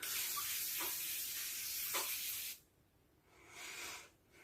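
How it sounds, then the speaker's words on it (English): A Missguided setting mist sprays onto a face in one long, steady hiss lasting about two and a half seconds, close to the microphone, followed by quieter rustling. "Now I'm going to set my face. I'm going to use this Missguided mist again."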